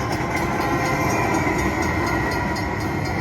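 A train sound effect plays in the Cash Express Luxury Liner slot game, a loud, steady rumbling clatter lasting a few seconds with no talk.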